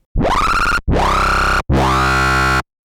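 Three loud synthesized bass notes with a harsh, screaming, upward-sweeping filter, each held briefly and separated by short gaps.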